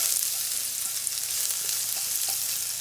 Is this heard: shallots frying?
yes